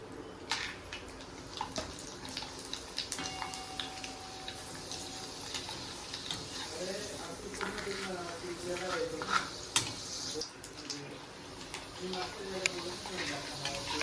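Sabudana and potato papad frying in oil, with a steady bubbling sizzle, scattered crackles and clicks, and a few metallic taps running under it throughout.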